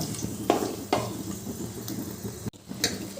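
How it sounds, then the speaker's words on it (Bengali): Two bay leaves and a small cardamom fry in hot oil, giving a soft steady sizzle with a few sharp crackles and a brief clink near the end. "তেলটা গরম হয়ে গেছে এবার ওই তেলের মধ্যে আমি দিয়ে দিলাম দুটো তেজপাতা আর একটা ছোট এলাচ এবার এটা একটু ভালো করে ভেজে নিলাম"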